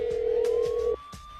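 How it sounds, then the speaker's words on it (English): A phone call rings unanswered, a steady electronic ringback tone held for about a second and then cutting off, leaving a quiet line. "It's ringing, and once again he is not yet to answer."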